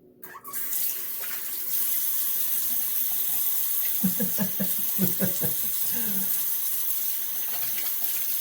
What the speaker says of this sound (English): Oh, I should rinse off a little bit.